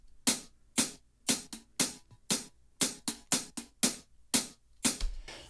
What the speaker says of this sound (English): We got a live hat that we played in Jesse's studio